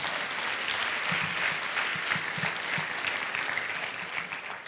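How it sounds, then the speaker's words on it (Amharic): A congregation claps together during a sermon, a dense, loud wash of many hands filling the space for several seconds in a steady, unbroken roar. "አጨብጭቡና አሜን በሉ።"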